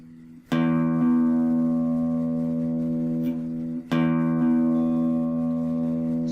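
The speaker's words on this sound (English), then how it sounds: "So that's the delay." An electric guitar string plucked through a Blackstar Fly 3 practice amp with its delay effect on, two clear struck notes about three seconds apart, each ringing out and slowly fading, with no voices.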